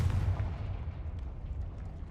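A Confringo blasting spell detonates in Hogwarts Legacy, a deep, heavy booming explosion that hits hard at the start and then rumbles and decays over about two seconds, with no talk over it.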